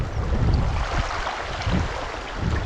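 Knee-deep Deduru Oya river after a cyclone surges hard over stones near Kadigawa, a close, continuous rushing roar with gusty low rumbles from wind on the microphone.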